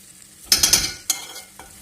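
A spoon scrapes and stirs through rice for pilaf in a hot pot, a few quick clattering strokes over a faint sizzle as the water cooks off.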